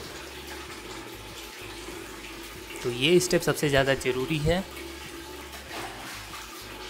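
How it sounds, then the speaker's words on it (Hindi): Continuous water pouring and splashing over the honeycomb pads of a Crompton Optimus 100-litre desert air cooler during cleaning, while someone speaks briefly in Hindi in the middle. "फिर से हम ऊपर से पानी डालेंगे"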